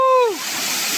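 Water pours and splashes steadily at the Hailakandi waterfall in Hailakandi, a broad, continuous wash of noise that carries on after a brief tonal sound fades at the start.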